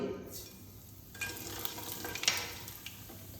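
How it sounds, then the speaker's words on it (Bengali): Half a spoon of black cumin seeds dropped into hot oil left from frying pabda fish, giving a soft, steady sizzle with a few brighter crackles near the middle, no voices. "মাছ ভাজার তেলে আমি ফোড়নটা দিয়ে দিচ্ছি এখানে হাফ চামচ কালো জিরে"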